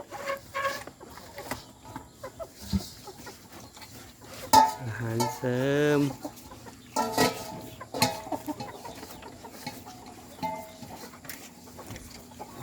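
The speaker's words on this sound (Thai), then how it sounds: "ไก่ก็แย่งกินนะครับไก่นะครับ" Farmyard chickens cluck and squabble while scrambling for supplementary feed and grass on a Thai smallholding that also keeps cattle, with clattering, scraping bursts and someone talking over much of it.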